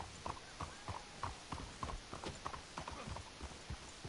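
Steady clip-clop of horse hooves walking at an unhurried pace in the video game Red Dead Redemption 2, moderately close, with faint background ambience and no talking.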